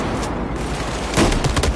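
Gunfire in the shooter game Battlefield 4 during a close-quarters firefight, with a dense broadband burst of several rapid shots standing out over a constant noisy battle background.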